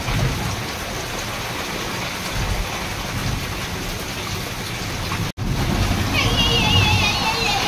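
Heavy rain pours in a dense, loud, unbroken roar, cut by a momentary dropout, while a high tone and faint voices sit underneath near the end.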